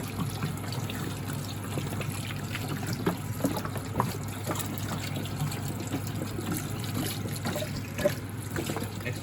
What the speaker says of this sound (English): Let me put this water in now.